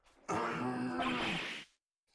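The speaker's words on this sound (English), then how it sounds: "Maybe I should clear my throat" A single gruff throat-clearing grunt from the video game Phoenix Wright: Ace Attorney, close and fairly loud, lasting just over a second before falling silent.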